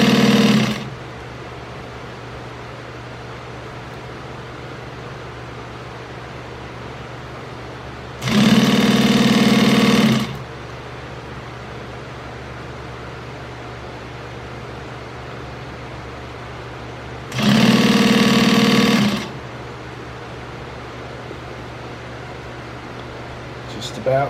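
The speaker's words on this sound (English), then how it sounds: "zigzag machine" A zigzag machine stitches a fabric dining chair cover in two loud bursts of a couple of seconds each, separated by long stretches of a quiet steady hum.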